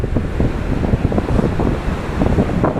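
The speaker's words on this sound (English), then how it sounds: "A hurricane's coming." Strong hurricane wind buffets the microphone while surf crashes and rolls onto the shore in steady, loud, overlapping waves, with no voices heard.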